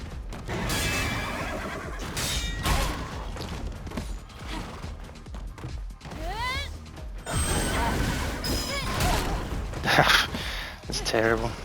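The Hammerhead Horse boss in the video game Stellar Blade lets out loud whinnying neighs amid clanking mechanical crashes and battle effects, with dense, busy game audio throughout and some speech-like sounds mixed in.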